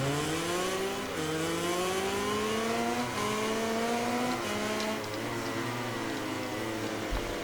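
Racing motorcycle engines in MotoGP 19 at the Red Bull Ring whine continuously, rising and dropping in pitch through repeated gear shifts, loud and steady without talk.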